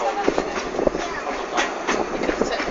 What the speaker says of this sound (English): They're moving now, look at. Oh, I saw that. Train's moving, you want to see?